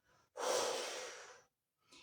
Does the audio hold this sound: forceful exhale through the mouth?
yes